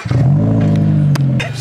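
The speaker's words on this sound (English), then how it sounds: "It's like a deep grumble, like a Subi grumble. And it is a Subi engine." A Toyota GR86 with its Subaru engine revs through an aftermarket MBRP exhaust, giving a deep, loud grumble that holds steady close by for over a second before dipping and rising again.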